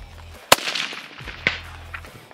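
A Nemo rifle fitted with a Surefire suppressor fires on an outdoor ranch shooting range, two sharp cracks about a second apart, each trailing briefly into the open air.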